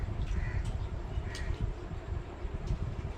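A crow caws a few times at a distance, brief calls spaced apart over a low, rumbling background noise.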